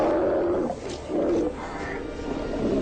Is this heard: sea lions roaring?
yes